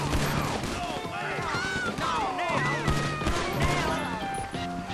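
Rapid bursts of GTA V gunfire from a machine gun and revolver crack and rattle amid chaotic effects during a gang war, while a person talks excitedly over the action.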